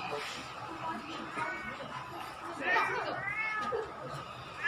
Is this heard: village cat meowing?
yes